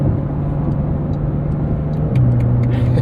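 A 2023 Porsche 911 Dakar of almost 500 horsepower accelerates while merging onto a highway, its engine a steady loud drone heard from inside the cabin that rises in pitch and strength near the end.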